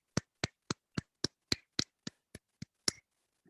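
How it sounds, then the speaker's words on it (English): Meeting attendees applaud at a club meeting: about eleven sharp, evenly spaced hand claps, close and fairly quiet, with silence between them and no voices. "everyone deserves a big round of applause"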